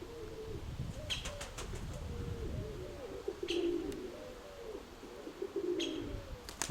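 Pigeons coo softly in low, repeated phrases against steady outdoor background noise, with a few brief chirps and flutters nearby.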